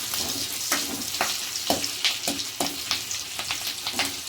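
Thin slivers of ginger and a sprig of curry leaves sizzle in hot oil for pongal, a steady close frying hiss broken by regular stirring scrapes.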